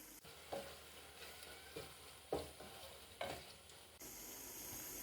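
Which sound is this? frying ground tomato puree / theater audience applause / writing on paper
frying ground tomato puree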